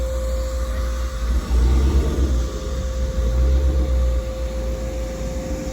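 A car rolls up and parks outside a house, its engine a steady low rumble with a slight swell in the middle, close by and with no talk over it.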